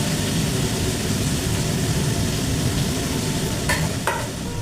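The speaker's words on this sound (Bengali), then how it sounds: "বিনসটা একটু ভাজা হোক।" Beans frying and being stirred in a pan, a steady close sizzle running throughout with a couple of brief scraping stirs near the end.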